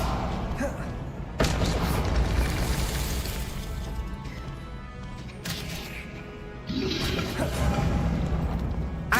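Booming spell blasts and bursts in the Hogwarts Legacy video game, several loud impacts in succession with sudden onsets around two, five and seven seconds, over continuous game ambience.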